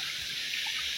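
Flood water after heavy rain rushes past in a steady, hissing flow, close and continuous over a brief moment.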